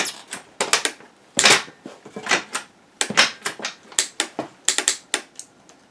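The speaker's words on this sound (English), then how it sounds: "And the start solenoid is just clicking." The starter solenoid on a Suzuki DRZ400SM motorcycle clicks again and again, the sharp mechanical clacks coming in uneven bursts and clusters, loud and close, with no engine turning over.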